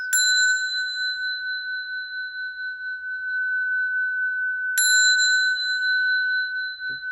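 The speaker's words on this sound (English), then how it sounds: "And then this bell for peace, right? The sound for peace." A single bell struck twice, rung as a call for peace during an interfaith program; each strike gives a clear, loud, long-sustaining pure ring that fades slowly, with the second strike near five seconds in.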